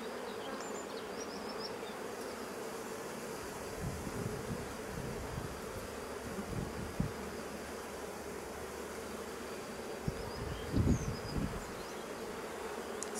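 Honey bees buzz around open hives, a dense steady hum of many insects close by, with occasional soft handling knocks and thumps of frames.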